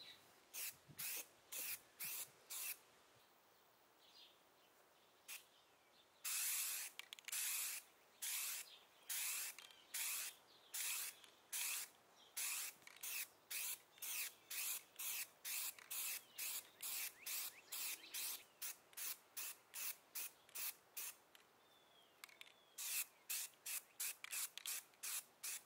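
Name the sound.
spray can applying white shellac-based primer to guitar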